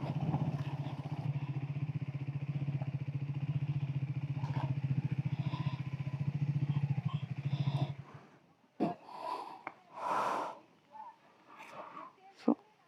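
A motorcycle rides along a rain-soaked monsoon road, its engine a steady close drone for about eight seconds before cutting off, followed by scattered knocks and brief noises.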